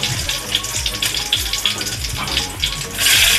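Chillies and curry leaves tempering in hot oil for kokum kadhi, a loud crackling sizzle with bursts of spatter that swells sharply near the end.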